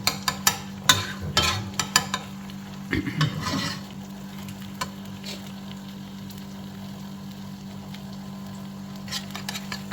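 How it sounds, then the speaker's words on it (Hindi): A spoon stirs sugar-free halwa with egg in a pan, a quick run of scraping knocks early on, then quieter occasional scrapes over a steady low hum. "इसको अब हम अच्छी तरह मिक्स कर देंगे।"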